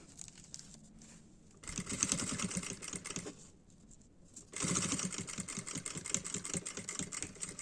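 A sewing machine stitches a baby pouch in two rapid bursts of rhythmic mechanical clatter, with a short pause between them for a backstitch. It is heard close up and alone, with only quiet handling in the gaps.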